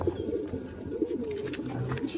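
Racing pigeons cooing in a loft, low throaty rolling calls overlapping steadily at close range over a faint background hum.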